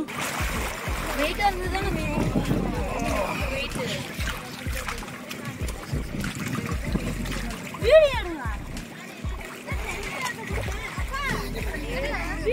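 Water splashes and sloshes repeatedly in a tank as a large floating stone is pushed under and bobs back up, with people talking over the splashing throughout.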